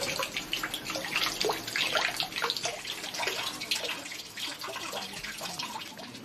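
Water runs and splashes continuously at a purification fountain outside a Shinto shrine in Japan, a steady close trickle with occasional drips and no voices.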